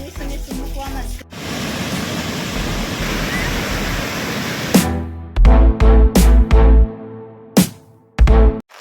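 Heavy monsoon rain pours steadily onto a flat concrete rooftop terrace of a house, a dense continuous hiss, broken near the end by several loud close thumps and knocks that cut through the downpour.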